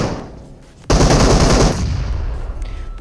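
Loud automatic gunfire in a battle royale video game, a dense burst of rapid shots starting abruptly after a quiet moment and tapering into a sustained rattle.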